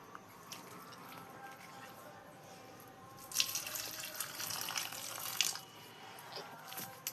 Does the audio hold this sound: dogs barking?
no